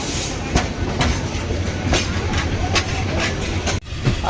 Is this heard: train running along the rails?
yes